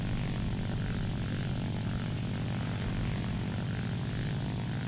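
Ki-100 propeller plane engine in the video game War Thunder, a steady droning buzz held at an even pitch throughout, close and continuous with no talking.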